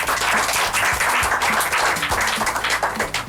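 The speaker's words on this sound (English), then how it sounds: "give them a round of applause." A live podcast audience bursts into dense, continuous applause, many hands clapping loudly together at close range for a few seconds, with no voices standing out.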